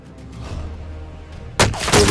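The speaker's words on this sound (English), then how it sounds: "He's just shooting." Gunfire in the battle royale game Call of Duty: Warzone: a burst of loud, close shots in the final second or so, following a quieter stretch of low rumbling game ambience.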